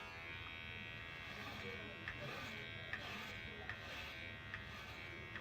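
Razor shaving of a man's face, heard as a steady close buzzing with small clicks and scrapes of the head moving over skin, and some talk mixed in.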